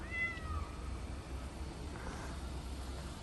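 A cat meowing outdoors on a mid-January day in Krakow, Poland: one faint, distant rising-and-falling meow near the start over steady outdoor background noise, with no talk.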